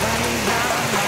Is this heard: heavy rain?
yes